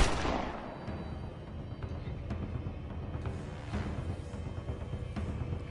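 A single loud gunshot-style blast opens the sequence as a sound effect in a French true-crime podcast, followed by a low rumbling, echoing tail and faint sharp cracks.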